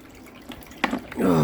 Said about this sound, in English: That keeps filling up with water, look, and it shouldn't.